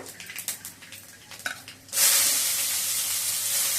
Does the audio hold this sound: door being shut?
no